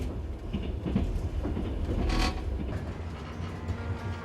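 Night interior of a moving train carriage: a steady low rumble of the rolling stock with creaks and rattles of the car body, one louder creaking swell midway, no voices.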